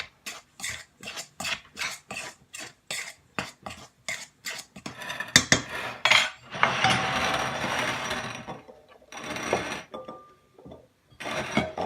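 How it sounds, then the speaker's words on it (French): Dry ingredients with sugar stirred quickly in a bowl, a run of short regular scraping and clinking strokes of utensil against the bowl, close and fairly loud, followed by longer rougher stirring bursts. "Je mélange vite fait à sec."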